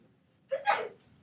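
One quick, fairly soft sneeze, a short sharp burst of breath that fades right away.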